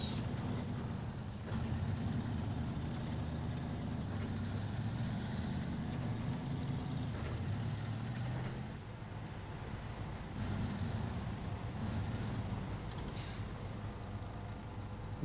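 A heavy truck engine idles and rumbles in the off-road driving game SnowRunner, a steady low drone that shifts slightly in pitch, with a short hiss near the end and no talk.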